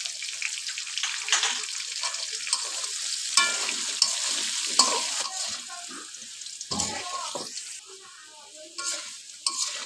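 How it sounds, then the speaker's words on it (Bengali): Potatoes frying in a pan with salt and turmeric, crackling sizzle under repeated scraping stirs from a spatula, close and fairly loud throughout. "আলু ভাজা হয়েছে"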